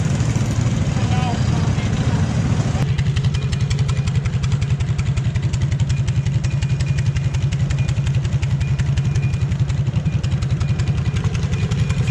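A motorcycle engine, loud and close, throbs at a fast steady pulse throughout, rising in tone after a brief lower start, as the bike heads down a road on the way to a tractor pull in Ilderton, Ontario.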